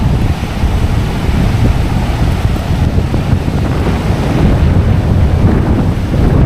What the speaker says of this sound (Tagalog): Sobrang lakas nga ng hangin